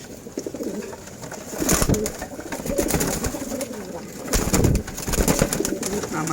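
Male pigeons coo in a loft in Wari, Dhaka, among birds kept for sale, with low throaty calls rising and falling in overlapping bursts, close and fairly loud over a constant background hum.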